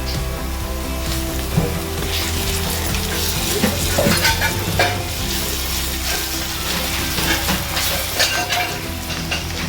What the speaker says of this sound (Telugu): అల్లం వెల్లిపాయ పేస్ట్ వేసి కలుపుతాం